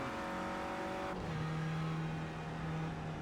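A Renault Clio Cup race car engine drones steadily in a sim racing game at Oschersleben, a constant loud hum that shifts pitch midway as the car changes gear or passes.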